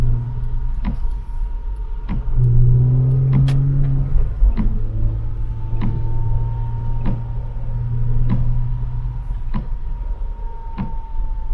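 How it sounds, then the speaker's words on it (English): Steady engine hum and road rumble inside a 2008 Porsche Cayman 987 on a highway, its rear-mounted engine note rising briefly as it accelerates, loud and continuous. "hearing the engine noise from the back"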